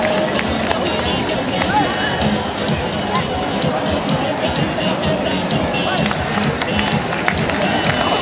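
A festival crowd at an outdoor bullfighting event with acrobatic leaping claps in a steady rhythm throughout, loud and close, blended with cheering and a babble of voices.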